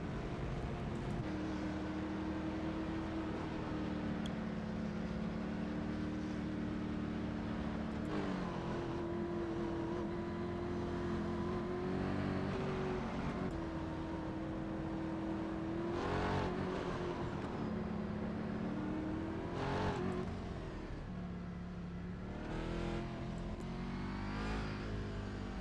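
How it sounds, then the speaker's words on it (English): Race cars in the iRacing video game roll behind a pace car at Mosport, a steady, loud drone of engines that rises and falls as the pack moves down the long back stretch. "Pace car bringing them down that long back stretch there."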